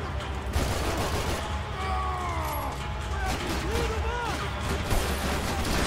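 Gunfire from the video game Max Payne 3, a dense, continuous layer of shots and crashing noise running loud throughout, with speech-like game voices mixed in.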